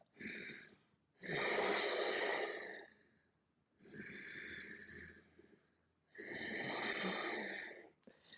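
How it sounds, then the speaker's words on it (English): Heavy, deep breathing in a Hatha yoga backbend with the head thrown back: four loud, close breaths alternating inhale and exhale with short pauses, no talking. "Now this breath is quite natural with the head thrown back like that. So you should really hear it quite strongly."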